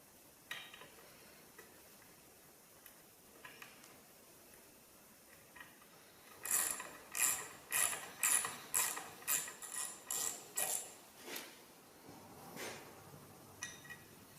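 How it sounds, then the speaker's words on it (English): A 6mm tap is wound into a stud hole on a military vehicle, producing a run of about a dozen crisp, evenly paced ratcheting clicks in the middle after quiet scattered ticks, fairly faint and close. "I'm just going to try and wind this 6mm tap up into it."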